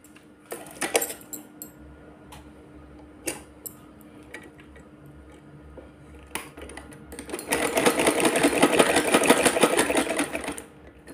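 A sewing machine stitching a small woollen winter dress for a Laddu Gopal idol starts with scattered clicks and taps, then runs in one loud steady burst of rapid whirring toward the end.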